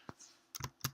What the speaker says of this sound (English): I'm now going to go and type in randomize